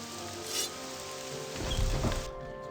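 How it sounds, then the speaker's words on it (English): Rain falling in the video game Morrowind, a steady hiss across the whole clip that swells and thickens midway, with a brief brighter burst early on and a tonal game backdrop underneath. "Oh, it's raining."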